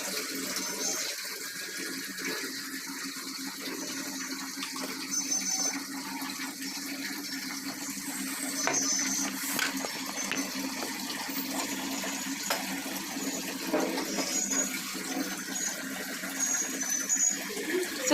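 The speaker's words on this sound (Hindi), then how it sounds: "उसमें ऊपर तक मैं पानी भर दूँगी" Tap water runs steadily into a vessel for chips for about eighteen seconds, a continuous close splashing rush that keeps an even level throughout with no talking.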